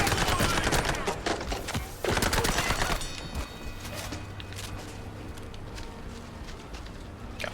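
A loose cannon weapon fires in the video game Mouse: P.I. For Hire as a rapid, loud burst of shots over the first three seconds, then gives way to a quieter background with scattered ticks and a low hum.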